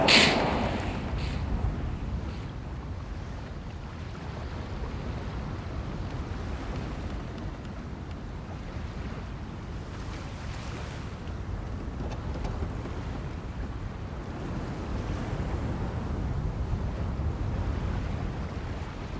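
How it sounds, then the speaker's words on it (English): Ocean waves wash steadily in the video game Maskmaker, a continuous broadband surf rumble with wind-like hiss, moderately loud and unbroken throughout, with no voices. "I can almost hear the sound of the waves."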